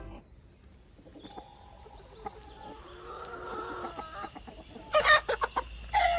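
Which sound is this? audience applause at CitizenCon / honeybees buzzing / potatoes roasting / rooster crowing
rooster crowing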